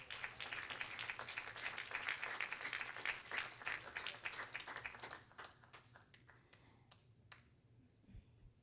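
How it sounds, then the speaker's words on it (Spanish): A church congregation applauding during a worship service, a faint, dense burst of clapping that thins into scattered individual claps before fading out. "Denle un fuerte aplauso al Señor."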